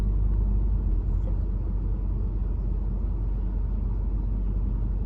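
A SEPTA city bus on Broad Street in South Philadelphia passes close by, a steady low engine rumble that swells briefly at the start and then holds evenly, with no talking.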